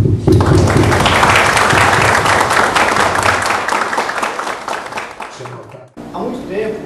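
Loud, dense applause from a theatre audience at a radio station event fills most of the clip, then fades near the end as a voice begins speaking.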